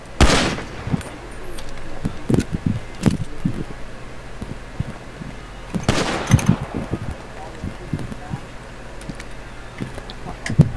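Gunfire in the FiveM GTA game sounds as sharp, scattered shots with a louder burst at the start and another midway, set against continuous background noise with occasional voices.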